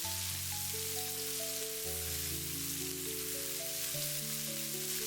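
Washed white jade mushrooms stir-fry in a wok with a soft, continuous sizzle, quiet and steady beneath a gentle melodic music track.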